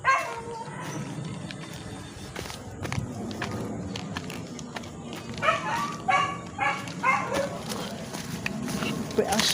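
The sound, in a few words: dog barking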